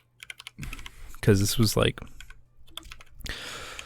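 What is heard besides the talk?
typing on a mechanical computer keyboard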